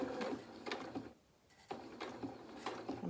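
A sewing machine stitches topstitching on small doll jeans toward the point of a pocket, a quiet run of rhythmic mechanical bursts broken by a brief pause before stitching resumes.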